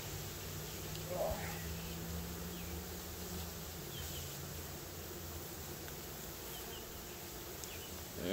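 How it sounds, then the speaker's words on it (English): Honeybees near a swarm up in a tree make a faint, steady droning buzz in the background on a farm or woodland scene, with a person briefly speaking over it. "Buzzing up there, but they're just the ones that have been out scouting"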